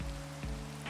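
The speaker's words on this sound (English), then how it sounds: "Oh, the rain." Steady soft patter of rain in Minecraft, a faint, even wash of falling drops heard alone with no voices.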